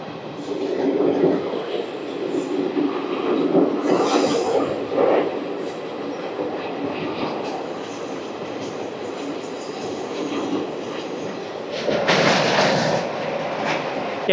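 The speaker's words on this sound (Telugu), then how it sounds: "రోడ్ కమ్ రైల్ బ్రిడ్జ్ అయితే వెళ్ళిపోతున్నాం మనం." Circar Express passenger train rolling across a road-cum-rail bridge, a steady loud rumble of wheels and carriages with a brief sharper clatter burst near the end.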